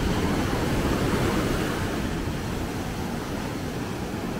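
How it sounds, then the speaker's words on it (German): Ocean surf rolls in along the Gran Canaria coast during high swell, a dense, continuous roar of breaking waves mixed with wind, steady and loud with no voices. "schaut euch die Wellen hier an"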